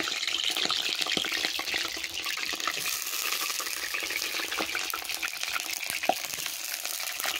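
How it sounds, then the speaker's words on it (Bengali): Potatoes sizzle and crackle in hot oil in a pan, a steady bright frying hiss with scattered pops, close and continuous. "এবার আমি আলুগুলো ভেজে নেব।"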